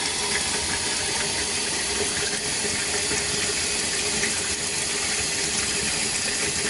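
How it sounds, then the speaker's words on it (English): Hot tap water runs steadily over a circuit board being cleaned of three-in-one oil, a continuous close, loud splashing gush with no talking. "get some hot water, clean off this board"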